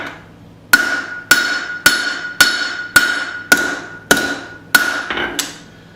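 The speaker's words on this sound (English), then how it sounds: "Finishing this taper off on the horn." Blacksmith's hammer drawing out a taper on the anvil horn while forging a small claw hammer; eight sharp, ringing metallic blows at a steady rhythm, each decaying briefly, close and loud.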